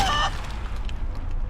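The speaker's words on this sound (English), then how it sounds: "Did you just turn Fane into a chicken?" Fane, turned into a chicken in Divinity Original Sin, gives a brief squawking cluck at the start, followed by quieter game ambience.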